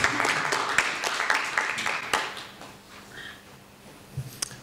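Audience applause for a guest speaker at an evening talk event, a burst of clapping that starts full and close then thins out and fades to a few scattered claps.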